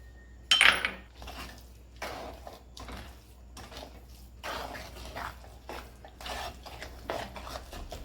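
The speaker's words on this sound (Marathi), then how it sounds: "अशा प्रकारे छान मिक्स करून घ्यायचं मस्त तयार झालेलं आहे आपलं मिश्रण" A spoon stirs a thick mixture of khava, besan and sugar syrup with almond slices and cardamom powder in a pan, giving close, repeated scraping strokes and occasional clinks, one sharp knock near the start.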